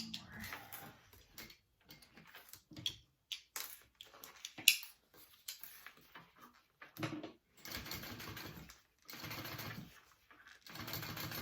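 A sewing machine top-stitches and closes a tote bag panel in several quiet, stop-start runs of rapid stitching separated by pauses and light handling clicks.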